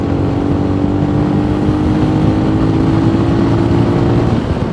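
An MGB ATX-T 125 motorcycle is ridden with a steady, loud engine drone, mixed with wind and road noise. The pitch is held nearly constant, with a smooth and even tone and no sharp revving. No voices are heard.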